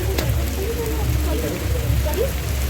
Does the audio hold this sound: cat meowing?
no